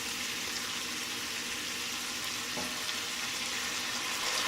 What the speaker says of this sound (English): And we'll just deglaze all that good stuff on the bottom there.